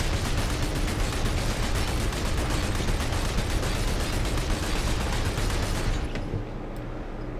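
Continuous rapid gunfire from a weapon in the video game Planetside 2, loud and sustained for about six seconds before cutting off into quieter ambient game sound.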